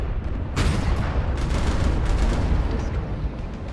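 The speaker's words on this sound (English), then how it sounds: "keep firing the LBs" LB autocannon fire from a mech in a video game pounds out a dense, continuous barrage of booming reports, loud and close, with heavy low rumble throughout.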